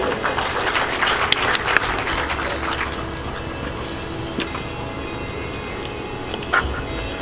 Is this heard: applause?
yes